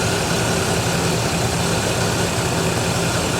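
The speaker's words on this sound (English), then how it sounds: "I hear the noisy bearings and the alternator. That's actually making a considerable racket" A Buick engine idles steadily at close range with worn, noisy alternator bearings, giving a continuous broadband whir and rattle over the low engine rumble, with no talk.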